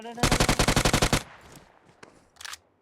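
A video game shotgun fires a rapid, loud string of about a dozen evenly spaced blasts. A few scattered softer shots and impacts follow as the burst dies away.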